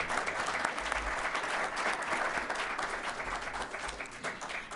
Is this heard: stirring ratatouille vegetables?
no